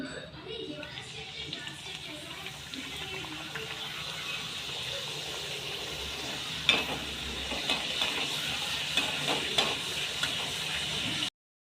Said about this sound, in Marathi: अशा आपल्याला तळून घ्यायच्या आहेत सर्व पुऱ्या चला मग तळते पटकन मी